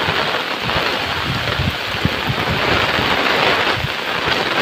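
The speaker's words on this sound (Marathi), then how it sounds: "वारा आणि पाऊस दोन्ही आहेत, त्यामुळे जोरात पाऊस आहे." Heavy monsoon rain in the Konkan pours down driven by gusting wind, a dense, loud, continuous roar of rain on surfaces with low rumbling swells from the wind and no talking.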